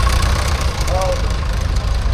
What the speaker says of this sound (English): Number 18 is something a little bit different, a three-wheel tractor.